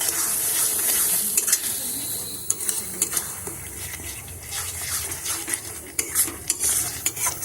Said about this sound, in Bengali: এইভাবে আমি নেড়ে চেড়ে ভালো করে মেশাতে থাকবো।